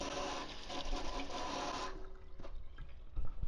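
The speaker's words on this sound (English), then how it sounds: "Rinse my hands off." Tap water running steadily for hands rinsed at a kitchen sink, then cutting off partway, leaving faint dripping and handling sounds.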